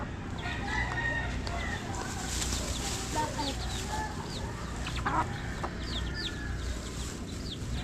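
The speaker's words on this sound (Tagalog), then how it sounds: "Tsaka ito, yan lang ang manok." Chickens cluck and call in short, scattered bursts, with a rooster crowing, all over a steady outdoor background hum.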